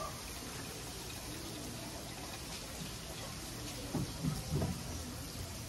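Water pours steadily into a soup pot at an outdoor cooking setup for shrimp soup, a quiet continuous rushing with a few slightly louder splashing bursts near the end.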